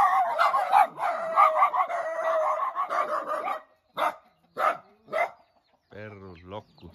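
Several dogs bark in loud, overlapping bursts at a family gathering in a Mexican town, then a few separate barks follow with gaps between them, and a howling or crowing call closes the stretch.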